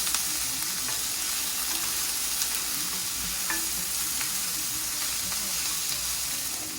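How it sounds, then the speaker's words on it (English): Onions frying and browning in a pot give off a dense, continuous sizzle with faint occasional stirring clicks, steady and close for several seconds. "You're gonna add your onions in first. You kind of want to brown these a little bit."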